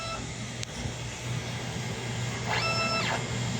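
A DTF printer runs a print head clean cycle, giving a steady low motor hum and mechanical whir, with a short series of rising beeps near the end.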